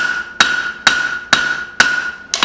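Hammer blows forging a steel cleaver, six sharp ringing strikes at a steady rhythm about half a second apart, loud and close, each leaving a bright metallic ring that lingers until the next hit.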